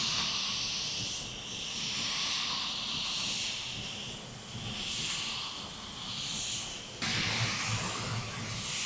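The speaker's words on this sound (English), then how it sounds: "I'm gonna put one coat on now, a wet coat" A paint spray gun lays a wet coat of silver metallic paint onto a panel, giving a steady, loud, close hiss that swells and eases in passes across nearly nine seconds with no talk.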